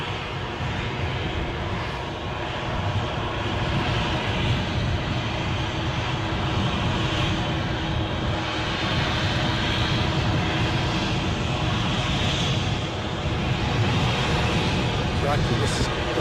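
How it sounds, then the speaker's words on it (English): An airliner taxis out at Edinburgh airport in gusty weather, its engines a steady, broad, continuous roar heard from a distance, with people chatting over it throughout. "This is going to be the slowest taxi out I've seen for a while."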